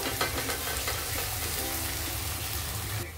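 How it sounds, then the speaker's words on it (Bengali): Grated ginger sautéing in a pan of hot oil for methi rice gives a steady, close sizzle and frying hiss that runs unbroken throughout, with no talking. "আদাটা দিয়েও আমি ভালোভাবে কষিয়ে নেবো।"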